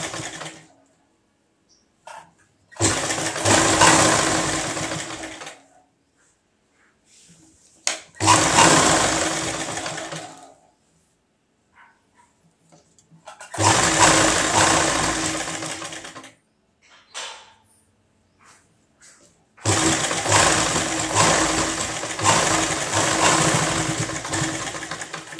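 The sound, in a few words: sewing machine stitching piping onto a blouse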